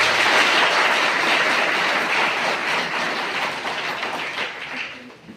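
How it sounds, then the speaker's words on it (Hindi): Loud, dense applause from a crowd of party workers at a gathering of the Vishwa Hindu Raksha Parishad in Uttar Pradesh, sustained throughout and tapering slightly near the end, with no talk over it. "तो मैं चाहूंगा कि सबसे पहले आप सभी लोग एक बार अपने लिए एक जोरदार ताली जरूर दें।"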